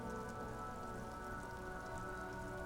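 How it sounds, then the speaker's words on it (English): Steady rain falls over the city in the game Disco Elysium, an even, continuous patter with no breaks, moderately quiet and alone. "A silvery curtain of rain over the houses"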